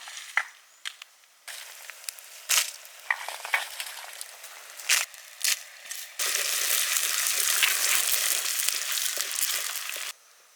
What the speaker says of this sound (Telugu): ఈ ఎండు మిరపకాయలని ఇండేసి మళ్ళీ గోలిచ్చుకోవాలి